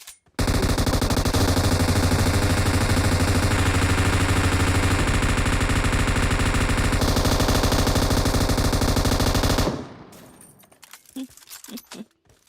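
Automatic rifle fire in the battle royale game PUBG Mobile during a boat attack, one loud continuous burst lasting around nine seconds, then a few scattered clicks and faint rattles as it dies away.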